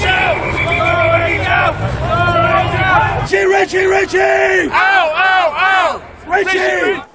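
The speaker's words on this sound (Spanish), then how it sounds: "recibido a las puertas de su residencia entre aplausos y abucheos" A loud crowd gathered outside a residence mixes booing, bellowed shouts and cheering. Voices rise and fall in rowdy bursts throughout.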